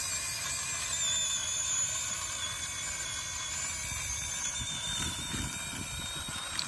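Electric motor of an SCX24 RC scale truck with an Enjora red motor whining at full throttle while pulling a heavy trailer up an incline, a steady high-pitched mechanical scream with rattling gear noise, close and alone.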